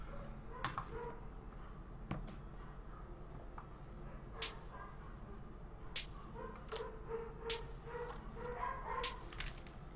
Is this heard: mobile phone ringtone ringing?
no